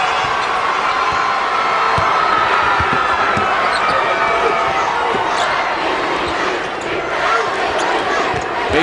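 Rockford Lutheran fans cheer and roar at a high school boys basketball semifinal, a dense, loud crowd din that holds throughout as sneakers squeak and balls thump on the court, with an announcer talking over it.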